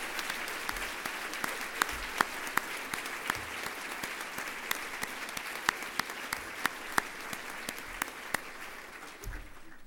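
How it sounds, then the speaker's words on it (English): Audience at a United Way annual meeting applauding new and retiring board members, a long steady wash of many clapping hands with scattered louder claps, fairly distant and soft, thinning slightly at the end. "let's give them a big round of applause."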